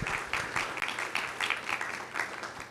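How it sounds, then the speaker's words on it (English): Warm applause from an audience at a district bond meeting rises immediately and continues as a dense, even clatter of many hands for a few seconds. "Give them a round of applause."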